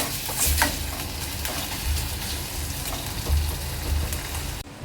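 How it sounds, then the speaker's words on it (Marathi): Ginger-garlic paste sizzles steadily in hot oil in a home kitchen, with a constant crackling hiss broken by a few soft scraping stirs. "3 ते 4 मिनिटं चांगलं तेलामध्ये अद्रक लसूणची पेस्ट शिजवून घ्यायची आहे"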